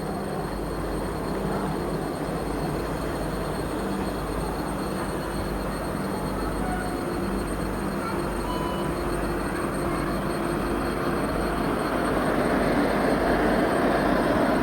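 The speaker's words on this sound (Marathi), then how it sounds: "कोल्हापूर पुणे वंदे भारत एक्सप्रेस आता डिपार्चर होत आहे" The Kolhapur–Pune Vande Bharat Express, train number 20673, departs Kolhapur railway station with a continuous loud rumble and whine of rolling stock, steady throughout and swelling slightly toward the end.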